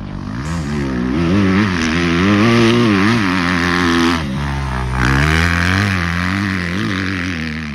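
A motorcycle ridden at speed, its engine droning loud and close with rising and falling pitch as it accelerates and shifts, running continuously without speech.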